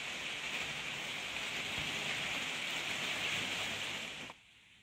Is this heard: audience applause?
no